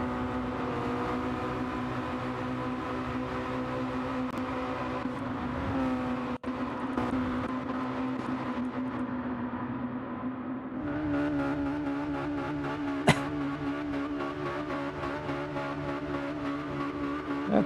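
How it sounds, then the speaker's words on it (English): A Mazda Roadster touring car's engine screaming at high revs on the Tokyo Highway circuit in Gran Turismo: a sustained, loud, tonal whine with brief dips and pitch jumps at gear changes, and no talk over it. "That poor Mazda engine's about to blow up"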